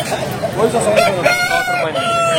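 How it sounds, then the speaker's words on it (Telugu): An aseel rooster at a poultry market crows loudly and close, one drawn-out call with a rising and falling wavering tone. "సారథి అన్నగారికి సంబంధించినటువంటి కోళ్లు అయితే తీసుకొచ్చినారు"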